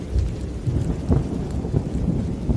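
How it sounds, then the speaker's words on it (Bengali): Deep rumbling thunder rolls beneath a dense, steady roar of heavy rain, loud and continuous for the whole stretch. "বাইরে আচমকা বজ্রপাত হলো, মুহূর্তেই আকাশ ভেঙে বৃষ্টি নেমে এলো।"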